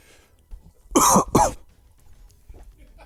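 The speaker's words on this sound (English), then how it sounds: "I just heard a cough" Two sharp, loud coughs in quick succession, close by, followed by quiet room noise.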